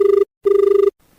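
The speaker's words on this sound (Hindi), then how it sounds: "डॉक्टर साहब इस दौरान एक और फोन है" A telephone rings during a Hindi farmers' radio call-in show, two loud close electronic ring bursts separated by a short pause, with a faint voice starting at the end.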